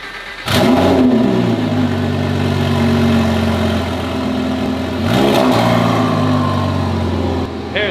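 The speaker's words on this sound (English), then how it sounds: "Garage cold start." Turbocharged car engine cold starting inside a garage: a sharp crank and catch into a loud revving idle, then a second hard rev partway through before settling back to a steady, close idle.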